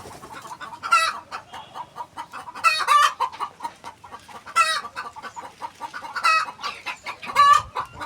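Native chickens, recovered from Ranikhet disease, cluck and squawk inside a netted enclosure, with several loud bursts of clucking spread across the clip over quiet background noise and no talk.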